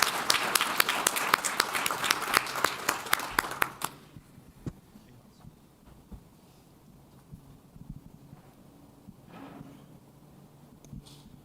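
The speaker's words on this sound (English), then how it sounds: "So everybody give a round of applause for that." A short burst of audience applause at a talk on Ohio old-growth forests and forest stewardship, crisp and fairly close, dying away after about four seconds into quiet room noise with a few faint knocks.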